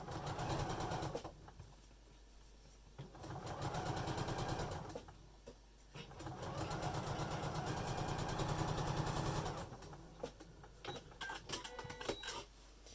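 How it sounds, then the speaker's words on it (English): Sewing machine running rows of stitches on a fabric face mask, close whirring bursts separated by short pauses, ending in a few clicks and handling sounds, no talking. "we're just going to run a row of stitches, just holding that over to that side, and it just finishes it off nicely"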